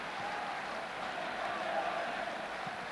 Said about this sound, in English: A boisterous crowd, but so far they haven't seen a goal.